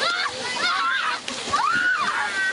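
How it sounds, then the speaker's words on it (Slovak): Children splash in a shallow stream running through a settlement near Prešov, Slovakia, on a hot summer day, with steady water sloshing and splattering under a voice speaking. "Nemusia ale chodiť na žiadne kúpalisko, kúpu sa priamo v potoku, ktorý preteká osadou."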